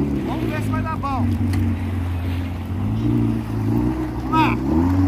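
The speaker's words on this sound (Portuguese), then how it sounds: "eu gosto de deixar ele ligado um pouquinho pra lubrificar melhor o motor pra depois você sair arrancando" A Yamaha VXR 1.8 jet ski engine idles at a steady, droning hum while warming up, running continuously under someone speaking.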